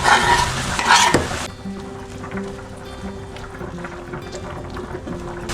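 Onion and garlic sizzle and crackle in a hot pan, loud at first with stirring noises, then settling into a softer, steady frying hiss.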